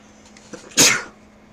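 A single sharp sneeze bursts out close by, brief and loud against a quiet background.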